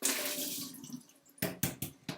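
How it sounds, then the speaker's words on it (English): Soaking water from overnight-soaked cashews is strained off, first as a steady running pour, then as a few short sloshing gushes near the end, close and fairly loud with no talking. "I'm going to take the cashews that have been sitting in the water overnight, and I'm going to strain out the water real quick."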